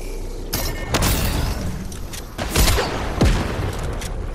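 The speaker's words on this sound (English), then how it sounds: "Literally, they're both shooting at me" Two players fire at once in a Fortnite match, a clattering run of sharp gunshot bursts and thuds, some clustered and some spaced out, loud and close with no talking.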